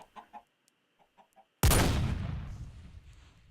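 A Minecraft gun fires with one loud, sudden hand-cannon boom that decays over about two seconds, after a few quiet clucks from chickens.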